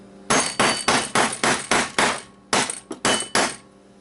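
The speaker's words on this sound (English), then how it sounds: "I'm kind of wedging it in there and then hammering it in there to get under that" A hammer strikes a tool wedged under the metal clip of an Xbox hard drive, about ten sharp, loud, close metallic blows in a steady rhythm with a short pause midway, no talking.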